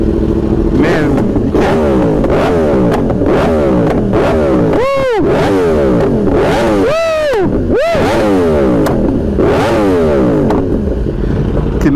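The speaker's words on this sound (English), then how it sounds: "Cannot beat the sound of an R1" A Yamaha R1 sport motorcycle engine revs hard and repeatedly up close, loud rising and falling howls with sharp throttle blips and a few deep drops between revs, with no talking.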